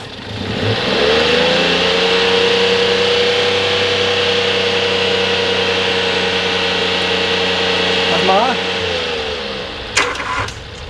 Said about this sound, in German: Jetzt mal ins Auto, gib mal bitte Gas.